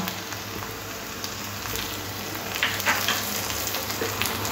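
Ginger-garlic paste and green chilli paste frying with onions for chicken kosha, a soft continuous hiss of oil with a few faint utensil scrapes toward the end.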